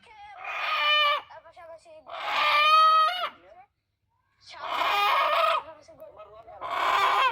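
A large rooster about to be slaughtered for a halal feast crows and clucks loudly up close in several long bursts separated by short pauses, with no talk over it.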